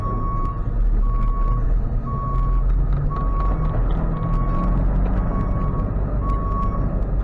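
Steady reversing beeps from a tow truck sound over a loud, continuous diesel idle while the truck backs up to turn around beside a 2002 Chevy 1500 pickup that won't start.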